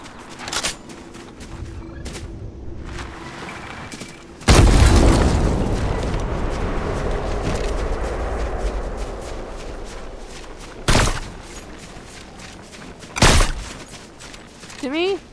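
Bombs go off in Fortnite: one big, close boom with a long rumbling tail, then two sharper blasts later, over quieter background clatter and footsteps.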